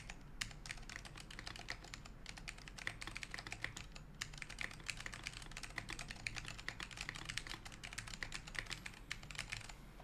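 Steady, fast typing on a Frog TKL mechanical keyboard with ALPS switches, close and quiet, a dense run of crisp key clacks with no talking.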